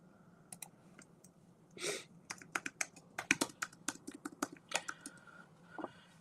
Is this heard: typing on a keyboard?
yes